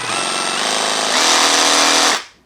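A MASARU SCSR440 cordless reciprocating saw (3500 strokes per minute, 22 mm stroke) running free, a loud close rattling buzz that rises as the trigger is pressed further, then stops abruptly.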